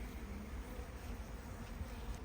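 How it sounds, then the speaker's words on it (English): Wasps swarm and buzz around a honeybee colony under attack, making a faint, continuous droning hum with no pauses. "it's just a colony constantly being robbed and attacked by wasps"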